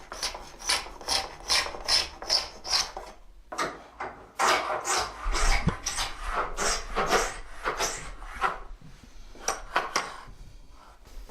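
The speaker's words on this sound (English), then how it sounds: "the plow with the cutter here is placed over the type, and a very light cut is made" A type-dressing plow with its cutter scraping lightly across metal type in a printing shop, giving a series of rhythmic raspy strokes in close succession with a brief pause partway through.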